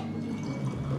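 Brief trickle of sour mix poured into a hurricane cocktail, a short wet liquid stream lasting about a second, close and moderately quiet.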